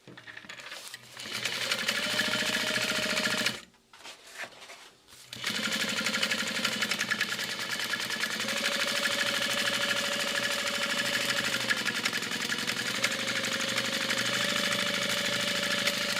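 A sewing machine stitches a binding seam on a Duncan messenger bag, running in a steady continuous whir that pauses briefly and then resumes for a long stretch, close and fairly loud with no voices.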